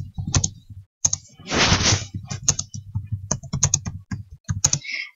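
Computer keyboard typing a chat message: bursts of quick, close key clicks with short pauses and one dense flurry of rapid typing, heard alone in a quiet room.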